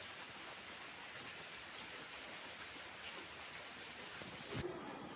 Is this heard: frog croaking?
no